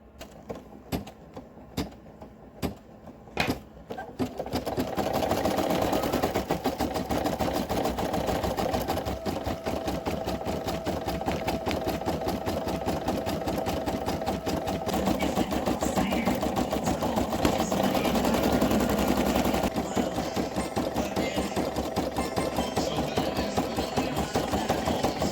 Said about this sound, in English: now we're going to do the satin stitch around the whole bunny